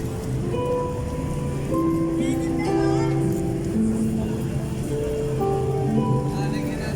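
Steady rain falls outside Quiapo Church in Manila, where churchgoers wait with umbrellas; a continuous patter fills the scene under busy crowd chatter and talk nearby.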